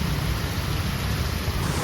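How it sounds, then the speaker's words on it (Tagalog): Heavy rain pours down in Bangkok in a dense, steady hiss that fills the whole moment without letup. "Nailalakas pa pala yung ulan"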